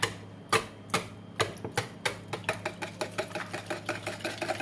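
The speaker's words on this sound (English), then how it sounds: "And now I will whisk everything together" A whisk beats salty sponge cake batter in a bowl with quick, even clicking strokes. The strikes start sparse and irregular, then settle into a fast steady rhythm, close and fairly quiet with no voice.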